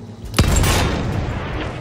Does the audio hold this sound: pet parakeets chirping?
no